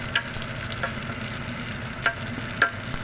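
Meat browning in a hot frying pan, giving a steady soft sizzle with a few sharp pops and spatters at irregular moments, close and fairly quiet, no voices.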